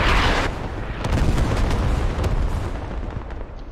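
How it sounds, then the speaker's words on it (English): Artillery strike explosions in a video game boom loudly in a dense, continuous barrage, with heavy rumbling blasts and sharp cracks overlapping throughout. "Maddie gets at least one with his artillery strike"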